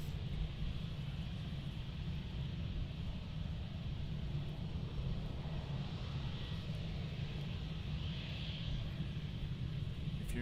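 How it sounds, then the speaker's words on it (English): EasyJet Airbus A320 holding on the runway at Amsterdam airport, its engines giving a steady, distant broadband rumble with a faint whine, even and unbroken throughout. "lining up now, or holding on the runway now, I should say, is the EasyJet Airbus A320"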